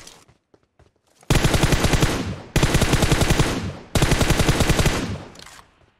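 M416 assault rifle in PUBG Mobile firing three loud sustained full-auto bursts, each a couple of seconds long with brief gaps between, close and dominant with no talking over it.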